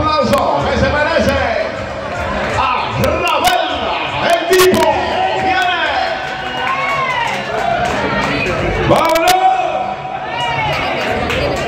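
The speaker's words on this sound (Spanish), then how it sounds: "Recibamos con el fuerte aplauso que se merece." A large crowd at an evening stage event cheers, whoops and shouts as a performer is welcomed, with loud mixed voices and claps continuing throughout.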